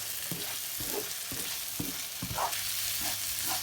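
Mutton roast frying and being stirred in a wide pan, a steady close sizzle under repeated scraping strokes of the spoon every half second or so.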